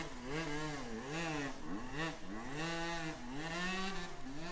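A 125cc enduro motorcycle climbs a hill at an extreme enduro race, its engine revving hard and wavering up and down in repeated surges, loud and close with no talk over it.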